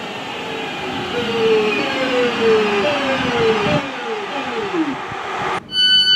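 A British Rail Class 323 electric train pulls into a station, a loud, steady rumble with descending motor whine as it slows, ending in a brief quieter moment with a faint tone.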